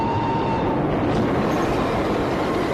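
Train rolling past in the film The Warriors, a steady loud rumble of wheels and cars with a faint high squeal, continuous and close without pauses.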